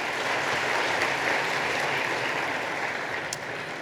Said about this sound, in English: Another round of applause for Dean Ellen MacKenzie.